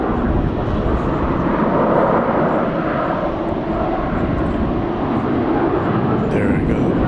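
An American Airlines Airbus A321 bound for Las Vegas taking off at DFW Airport at night, a continuous loud engine roar that stays heavy and close from start to finish.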